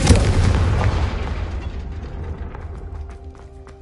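A Confringo fire spell in Hogwarts Legacy on PS5 bursts in a loud, close blast that opens sharply and then rumbles and fades over a few seconds, with faint game sounds trailing behind.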